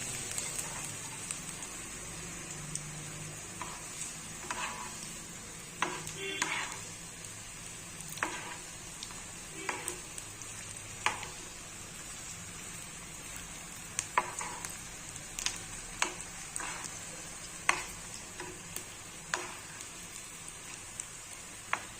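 Battered banana flower frying in hot oil in a pan, a steady close sizzle broken by scattered stirring scrapes and taps, with no talking.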